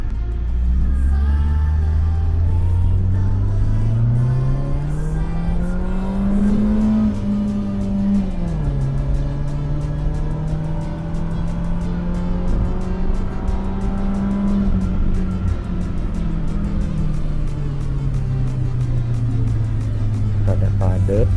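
A car fitted with a K&N air filter accelerates hard on a toll road, its engine note rising steadily in pitch, dipping at a gear change, then climbing again, loud and continuous with someone talking over it.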